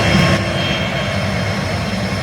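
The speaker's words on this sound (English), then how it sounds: "We got a business jet coming in" Business jet taxiing in at an airport, a loud continuous engine roar with a steady high whine, close and filling the clip without any talk.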